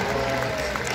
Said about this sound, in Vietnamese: Chúng ta vỗ tay nhiệt liệt hoan nghênh thành tích hai nữ vận động viên xuất sắc.